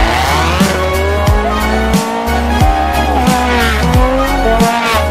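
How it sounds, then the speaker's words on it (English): A Ferrari 430 Challenge race car screams past up close, its engine revving hard through repeated upshifts with sharp drops between gears, loud and continuous. "This is his Ferrari 430 Challenge."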